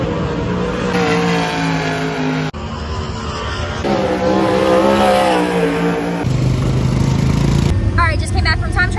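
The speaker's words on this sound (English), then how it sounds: "I think they are out right now on the track for hot laps." Sprint cars running hot laps at Port Royal Speedway, with loud revving engines rising and falling as cars circle the dirt track, heard continuously with a voice speaking near the end.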